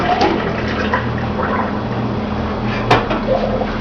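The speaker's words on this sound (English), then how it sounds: "I'm going to pour this cold water, or like I said, an ice bath, and this is over the eggs" Cold Brita-filtered water from the refrigerator pours steadily from a pitcher over boiled eggs in a pot, a continuous close splashing and gurgling with a brief clink near the end.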